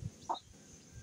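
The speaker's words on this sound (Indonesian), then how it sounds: "anak ayam banyak sekali" A single soft cluck from a chick, brief and fairly quiet, with a faint low thump before it.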